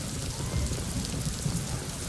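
Dense, constant monsoon rain roars evenly over Navi Mumbai with a low rumbling undertone, a thick wash of noise with no pauses and no voices.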